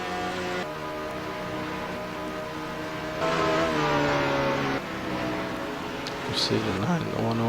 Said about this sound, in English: So here comes the 54 car out